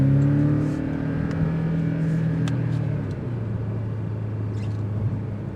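A 2025 Porsche 718 Cayman S engine pulls hard under boost, a strong rising drone heard from inside the car that eases off partway through, loud and alone with no talk.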